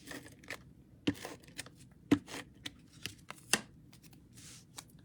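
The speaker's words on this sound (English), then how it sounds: "I always am moving my paper around." Sheets of craft paper slide and shift across a table while a Christmas handmade card is assembled, giving a run of soft, brief rustles and taps with a few sharper crinkles, close and quiet, with no talking.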